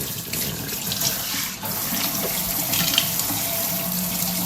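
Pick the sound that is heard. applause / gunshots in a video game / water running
water running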